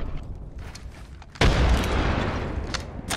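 Grenades fire and explode in a video game: a sudden loud blast with rumbling, crackling fire and scattered bangs that keep going for a couple of seconds, close and dense.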